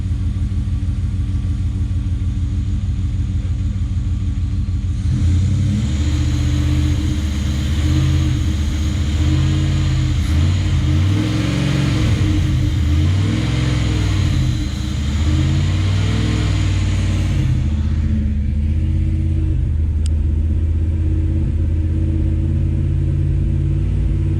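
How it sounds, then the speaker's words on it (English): A Jeep Grand Cherokee Trackhawk's engine idles with a deep rumble, then the throttle is blipped in repeated rising-and-falling revs for about twelve seconds before settling back to a loud, steady idle. "I'll run the throttle, and you watch the gauges"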